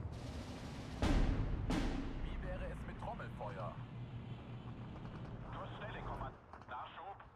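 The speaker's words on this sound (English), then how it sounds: "Where was that mortar fire coming from?" Steel Division 2 battle: two loud, close explosive blasts from mortar and gunfire, followed by a rumbling battlefield din with distant pops and scattered shots, while someone talks over it.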